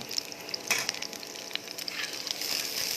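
Limp, translucent onions sizzling and frying in a pan for Spam menudo, a steady close crackle with a few light scrapes of stirring and no talk.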